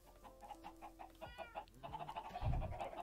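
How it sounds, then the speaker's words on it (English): Chickens cluck in a blocky sandbox video game, several short clucks and squawks overlapping in irregular bursts, with a louder low thump near the end, moderately close and without talk. "There's the chickens."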